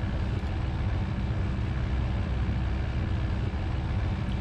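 A Piper PA28-181 Warrior II piston engine runs at steady power on the ground with carburetor heat set to hot, a loud, even, droning buzz that holds unchanged throughout.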